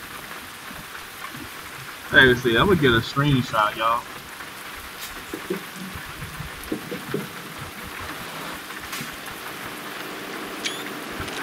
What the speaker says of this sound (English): It is raining for real on the game